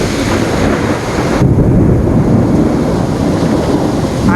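A thunderstorm in Tampa pours heavy rain at a front doorstep, a loud continuous wash of noise with a deep rumble of thunder underneath, no voices.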